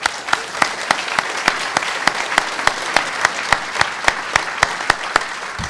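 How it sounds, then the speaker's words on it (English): Closing-ceremony audience at the HOPE XI hacker conference gives a round of applause for a sponsor, a loud, dense, steady roar of clapping with regular sharp claps standing out throughout. "So I'd like to give a big round of applause to them."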